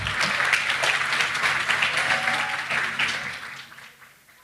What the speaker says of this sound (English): please give them a round of applause for all their hard work